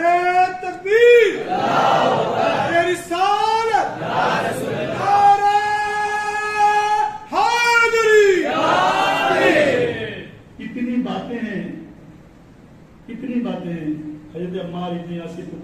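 A large religious gathering roars a takbir chant in response to a speaker, loud massed voices rising and falling in several long surging waves, then thinner, scattered shouts trailing off.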